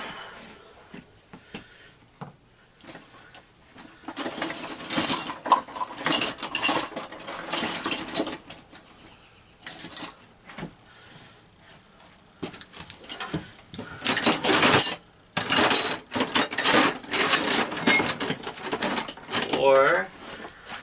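Tools clatter and clink as someone rummages through two bags looking for a spark plug socket for a 1962 David Bradley 725, with bursts of metallic rattling and pauses between them, close and fairly loud.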